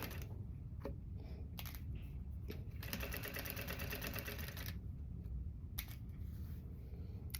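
An industrial sewing machine stitches fabric in short bursts, then runs steadily for about two seconds with a fast, even mechanical rattle over a loud constant motor hum, all close by.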